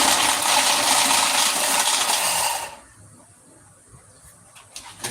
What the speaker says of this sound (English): Now this shuffler ain't worth a damn